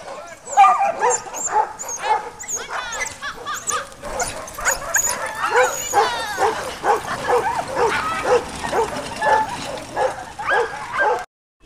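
Sled dogs on a rolling dog sled tour near Mud Pond in New Hampshire bark, yip and whine excitedly, a close, near-continuous chorus of overlapping, rapid calls.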